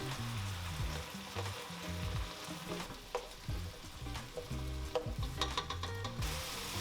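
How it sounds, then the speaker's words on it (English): Chopped vegetables and onion sauté in a pot for a Japanese curry chicken stew, giving a steady close sizzle with scattered stirring scrapes and clinks throughout, no talking. "now we wanna cook our veggies for about 5 minutes or so, just until they start to soften a little"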